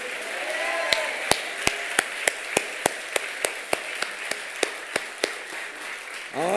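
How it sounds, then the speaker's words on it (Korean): A church congregation at an evening revival service claps in a steady, evenly spaced rhythm, about a dozen sharp claps over a soft murmur, before a voice begins at the end. "우리 찬양받게 합당하신 하나님께 영광의 박수입니다."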